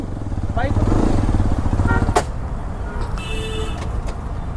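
A Hero Xpulse 210 motorcycle engine putters nearby with a throbbing, pulsing note that fades somewhat, joined by brief traffic sounds and a short electronic tone.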